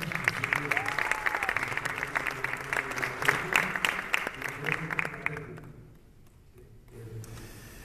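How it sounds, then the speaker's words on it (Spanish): Audience applause and cheering at a Paraguayan rock concert honoring a performer, loud dense clapping for about five seconds before fading into quieter crowd noise. "Un fuerte aplauso a René"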